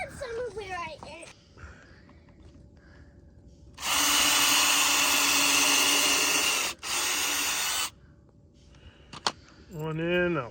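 A power drill drives screws into a sawhorse leg in two steady, loud whirring bursts, about three and one seconds long, separated by a brief pause. Someone talks before and after the drilling.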